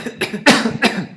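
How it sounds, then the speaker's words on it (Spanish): A person coughs in a quick series of three or four harsh, close bursts, loud and alone with no talking. "Esta tos."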